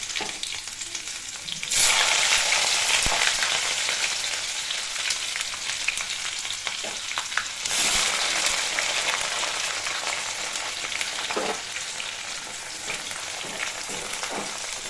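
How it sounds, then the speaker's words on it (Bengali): Garlic and panch phoron frying in hot mustard oil for a tangy tamarind pickle, a steady close sizzle that surges loudly twice as ingredients hit the oil, with occasional pops and stirring. "তারপর 1 ছোটো চামচ 5 ফোড়ন দিয়ে রসুনগুলো দিয়ে দেবেন গরম তেলের মধ্যে"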